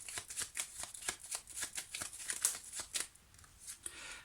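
Tarot cards are shuffled close by in a steady, quiet run of soft riffling flicks with no voice over them.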